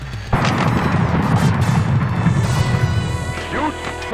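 Cannon fire from the Pinball Arcade pirate-themed table booms in loudly and holds as a dense rumbling roar for several seconds, with machine chimes and a few short electronic tones rising near the end.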